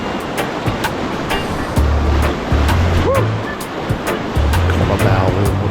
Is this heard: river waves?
yes